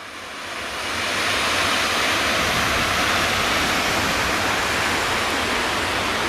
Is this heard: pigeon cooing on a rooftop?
no